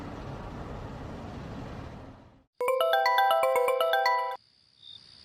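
A mobile phone rings for an incoming call with a bright, rapid electronic melody that cuts in loud and clear after a stretch of low background noise, then stops abruptly, followed by a faint short tone.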